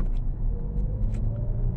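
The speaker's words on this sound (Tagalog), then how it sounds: "Traffic na ng konti" Light street traffic in Bonifacio Global City, a low continuous rumble of passing cars at moderate distance with no voices.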